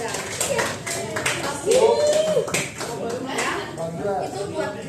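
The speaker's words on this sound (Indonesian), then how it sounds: "Tepuk tangan buat yang tangannya jengkalnya panjang." Several people in a group clap their hands in scattered, uneven claps alongside ongoing talk, with a short tonal ping partway through.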